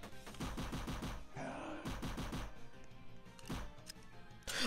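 Rapid automatic gunfire from a Roblox shooter game set in a zombie-filled bunker, loud repeated bursts of shots with brief pauses between volleys, continuing through the whole stretch.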